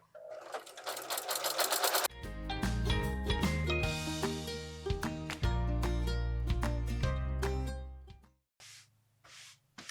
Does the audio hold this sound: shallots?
no